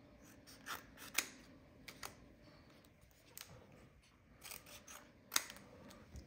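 Scissors snip through a UV DTF transfer sticker in a series of sharp, close, separate cuts, with quiet rustling and handling between them. No one speaks.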